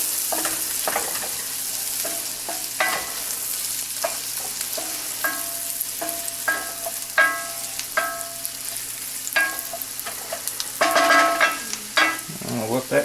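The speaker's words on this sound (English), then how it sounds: "we want to sweat the onions." Onions sweat in a hot pan with a steady sizzle, broken by scraping stirs and utensil taps, close and fairly loud throughout, no talk.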